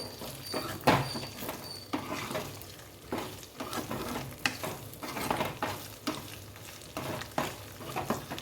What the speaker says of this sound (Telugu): ఇంకా నువ్వులు అయితే వేగుతున్నాయి